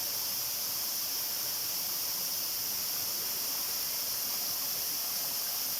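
Samrong Kiat waterfall at Khun Han in Sisaket, Thailand, pours in a steady, even rush of falling water, close and continuous with no voices.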